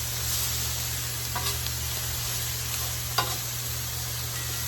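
Onions and peppers for cheesesteaks fry on a very hot griddle of a Masterbuilt Gravity Series 800, giving a steady close sizzle over a low burner hum, with a few light spatula scrapes and clicks and no speech.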